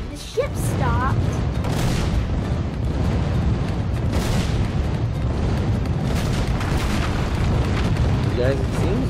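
Dense, continuous booming and rumbling explosions of pirate ship cannon fire against a castle in the video game Skylanders: Spyro's Adventure, loud and constant with brief chirpy effects mixed in.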